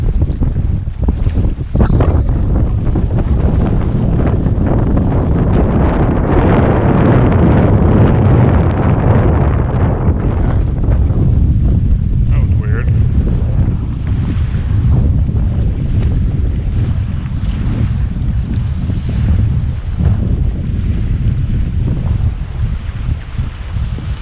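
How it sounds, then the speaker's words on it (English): Strong wind roars over open water around a small boat on a salmon trip among icebergs, loud and steady throughout with heavy microphone buffeting and a low rumble. "Worst possible wind direction. It's not like it's just a little wind"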